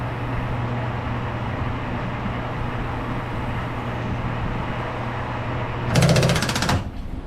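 Manual lathe tapping a 5/8"-18 UNF blind hole with a Techniks clutched tap holder, a steady machine hum and whine that ends in a short loud burst of clutch ratcheting near the end.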